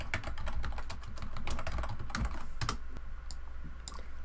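Rapid typing on a computer keyboard while entering a node name in Unreal Engine, a close, steady patter of key clicks with a few louder taps and no speech.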